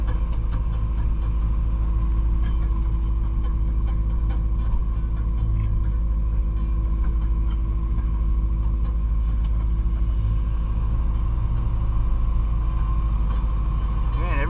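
A box truck pulling out and driving, a steady low engine rumble and road drone from inside the cab with faint rattles, continuous throughout, voice talking over it.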